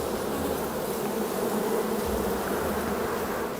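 A dense, steady drone of many honey bees buzzing together at a hive, loud and close, continuous without pause and with no voices.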